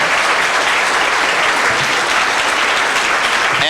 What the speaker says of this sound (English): Could we get a round of applause for him one last time?